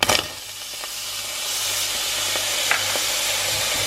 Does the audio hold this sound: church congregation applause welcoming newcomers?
no